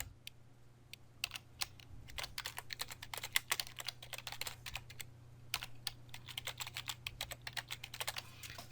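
Typing on a computer keyboard: steady bursts of quick, light key clicks, close up, over a low electrical hum, with a few isolated keystrokes before the rapid typing sets in.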